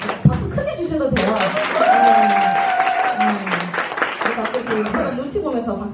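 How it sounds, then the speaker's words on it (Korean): A seminar audience claps together after a speaker's prompt, a moderately loud steady run of hand claps lasting several seconds, partly overlapped by a voice and a sustained tonal sound. "박수 크게 주셔도 돼요."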